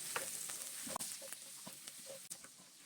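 Garlic frying in leftover Hungarian sausage drippings in a pan, a bright steady sizzle broken by several soft scrapes and stirring knocks, close and fairly quiet.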